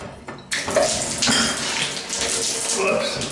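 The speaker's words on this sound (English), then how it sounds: "We will turn on the hot water." Hot water running from a sink tap, a steady hissing splash that starts abruptly and keeps flowing at constant strength, with a voice speaking faintly over it.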